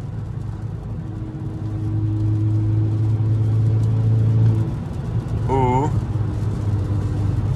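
Ford Focus RS engine droning steadily while driving on busy roads, a continuous close-up cabin hum with a short exclamation from a voice partway through.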